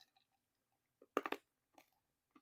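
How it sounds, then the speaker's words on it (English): Mints crunched and chewed close to the mouth: a quiet gap, then a quick burst of three or four sharp crunches followed by a few softer chewing bites in near silence. "I'm going to finish my mints."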